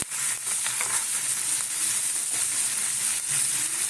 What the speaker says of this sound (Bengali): এইভাবে এটাকে সুন্দর করে কষিয়ে নেব